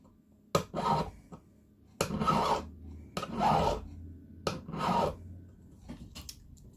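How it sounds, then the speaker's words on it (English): A hand file rasps along the edges of a copper ring in five or six distinct strokes, each a close, gritty scrape of about half a second, separated by short quiet pauses. "Once you've done your filing and you've rounded your edges off nicely"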